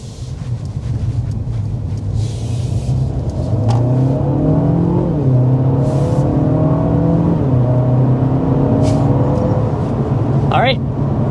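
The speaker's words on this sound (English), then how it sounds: "let's go ahead and start with a hard acceleration" A 2024 Mercedes CLA 250 accelerates hard, its engine note climbing through gears with rising harmonic sweeps and brief shift dips, steady and loud from inside the cabin with some wind noise.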